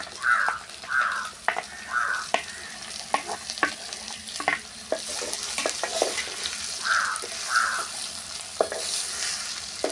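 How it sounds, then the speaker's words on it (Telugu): Ridge gourd pieces and green chillies fry in a pan with a soft continuous sizzle and intermittent clinks of stirring, while crows caw repeatedly in the background. "ఇలా బీరకాయ ముక్కలు వేసుకోవాలండి"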